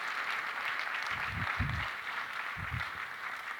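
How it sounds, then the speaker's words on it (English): Sustained audience applause for Lord Hague (William Hague) at a London housing event, a dense steady wash of clapping throughout with a few low thumps. "a big round of applause for Lord Hague"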